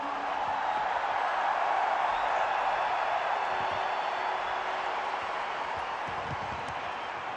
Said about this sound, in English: There'll be a huge cheer for this one